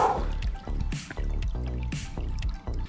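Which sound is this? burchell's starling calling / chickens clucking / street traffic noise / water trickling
water trickling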